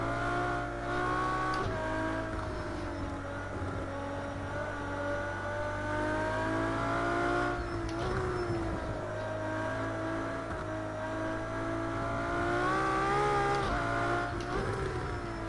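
A Ferrari LaFerrari engine drones loudly and continuously while lapping the Nordschleife, holding a steady high-revving tone with shifts in pitch as it runs downhill, heard from inside the car.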